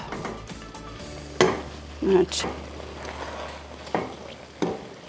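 A spoon scraping and clinking against a pot as one-pot pasta is dished up, producing a few sharp metallic knocks and scrapes spaced across a quiet kitchen hum, close by, with no voices.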